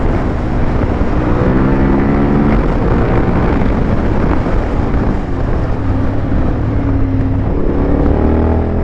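A prepared Suzuki V-Strom on knobby tyres accelerates hard along a road, its loud engine note rising and falling through the gears, with heavy wind rush over the microphone.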